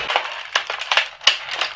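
A computer keyboard is snapped in two with a series of sharp plastic cracks and crunches, several separate loud breaking bursts spaced irregularly, close and with no talking.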